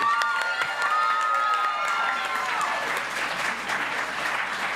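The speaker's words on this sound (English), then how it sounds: "Let's give a big round of applause for Stacy." An audience bursts into loud, sustained applause with some cheering at a live musical variety show, a dense wash of clapping that holds steady throughout with crowd noise mixed in.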